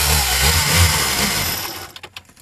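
A cold Poulan Wild Thing 18 chainsaw is pull-started and its engine roars loudly for about a second and a half, then sputters out, leaving a few faint clicks and rattles.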